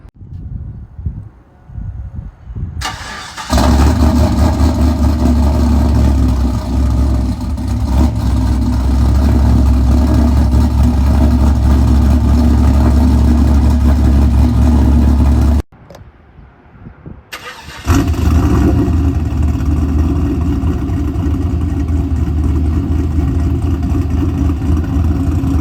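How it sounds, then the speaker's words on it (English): A cammed 5.3 V8 fitted with a Carven R exhaust starts up and settles into a loud, deep, lumpy idle, cuts off briefly, then fires again and rumbles steadily up close. "I actually really like how the Carven sounds on the idle"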